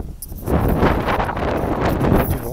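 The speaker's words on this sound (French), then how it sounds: "il y a du vent, donc je cache un petit peu le micro" Outdoor wind buffets a handheld microphone, producing a loud, continuous low rumble with fluttering gusts throughout.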